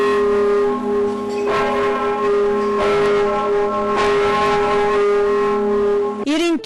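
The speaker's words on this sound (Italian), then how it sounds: "I rintocchi della torre civica accompagnano e cullano il ricordo dei bassanesi" A large civic tower bell tolls with a long, humming resonance, strokes ringing out and overlapping, loud and reverberant outdoors, with faint background noise.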